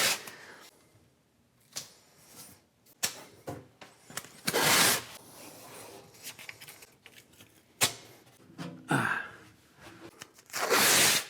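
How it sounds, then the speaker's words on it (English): Masking tape is torn and pressed onto a countertop during a drop-in sink installation, giving several sharp ripping bursts spaced irregularly with quieter handling noises between, close and alone. "We're going to tape this off."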